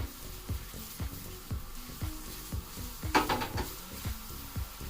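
Jowar roti cooking with ghee on a hot tawa, soft sizzling under regular rhythmic scraping and tapping of a utensil against the pan, with a brief brighter hiss near the middle.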